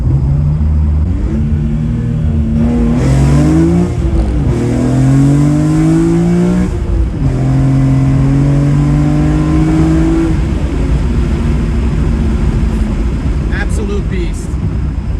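A BMW M3 CSL engine revs hard with the windows down, its rising and falling pitch sweeping up through several throttle blips before settling into a sustained drone, loud and close from inside the car.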